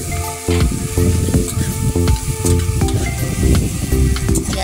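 Onions fry in oil for an egg mustard dish, a loud, close, continuous sizzle and crackle with scraping and clinks of stirring over a low background hum, and no talking.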